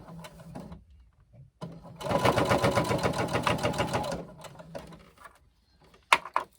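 A sewing machine top stitches along the edge of a bag strap for a hobo shoulder bag, one close, rapid rhythmic run of about two seconds, framed by quieter handling noises and a couple of sharp knocks at the end.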